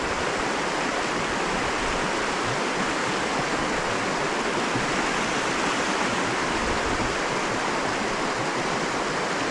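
A river flows in a steady broadband rush of water, continuous and fairly loud with no voices over it.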